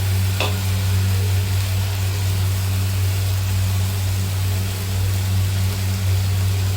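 Ground mint paste is stirred into vegetable biryani masala in a pan, giving a steady, even sizzle over a constant low hum, with one brief click near the start and no talking.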